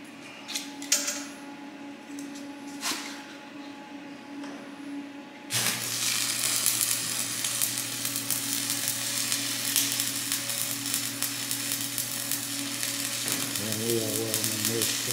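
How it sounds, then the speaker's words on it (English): Stick welding with 7018 rod on final passes of a Peterbilt 359 truck frame weld: after quiet clicks, a steady loud crackling sizzle starts abruptly and runs continuously to the end. "Here we are stick welding the final passes on the weld."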